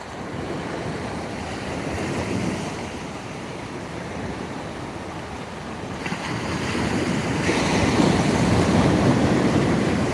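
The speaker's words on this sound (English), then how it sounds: "I love the sound of the sea" Small sea waves rolling steadily onto a shore at night during kayak sea fishing, a continuous loud wash of surf that swells toward the end, with no talking.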